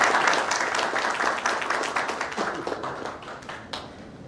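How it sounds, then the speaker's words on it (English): Audience applause at a COVID warrior awards event fills the room, a dense burst of clapping that gradually thins and fades with scattered claps near the end. "Thank you for that one person applauding."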